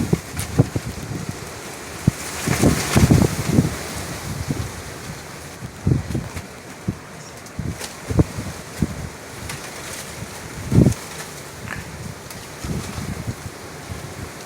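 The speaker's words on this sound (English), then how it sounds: "Very windy." Storm winds gust during a power outage in Elk Grove, with irregular rushing blasts and rustling bursts that rise and fall over a low, steady background.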